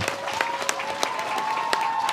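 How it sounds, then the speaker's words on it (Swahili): Applause for guests at a ceremony donating sanitary pads and geometry sets to candidates, a crowd clapping steadily with sharp individual claps and a faint tonal hum underneath. "Makofi kwao."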